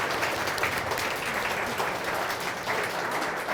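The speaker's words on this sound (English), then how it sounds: "Can we give them a giant round of applause for being here today?" A dense, even round of applause from an audience at a writing celebration event fills the room continuously from start to finish.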